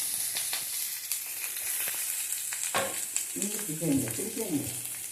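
Chopped onions fry in hot oil with curry leaves, dried chilies, cinnamon and cloves, giving a close, continuous sizzle with a louder crackling burst near the end as the onions go in.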